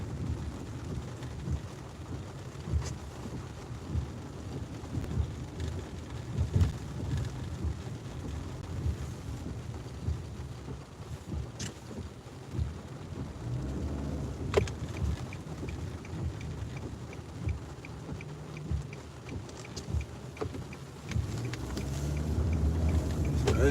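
Heavy rain with traffic driving through it: a continuous low rumble of tires hissing on wet road and steady rain wash, with occasional passing surges and a swell toward the end, no clear talk.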